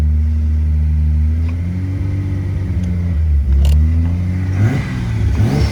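Nissan 280ZX with a turbocharged L28 engine accelerating on its first drive, a loud, steady in-cabin engine drone rising in pitch through the gears with brief shift dips.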